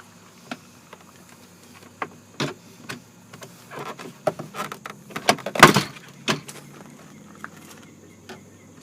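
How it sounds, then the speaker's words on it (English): A screwdriver pries the door panel off a BMW E36, producing scattered plastic clicks and scrapes that build to a sharp pop near the middle, close and isolated with no talk. "We're going to go in here to the side, and we're just going to pop the door panel off."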